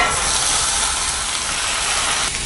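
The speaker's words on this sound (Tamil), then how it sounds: "இப்போ நம்ம ஆல்ரெடி க்ளீன் பண்ணி வச்சுருக்கிற வல்லாரை கீரையை ஆட் பண்ணிக்கலாம்" Vallarai greens hitting a hot pan of sautéed tomato give a steady, loud broadband sizzle and hiss that stays constant for a couple of seconds with no talking.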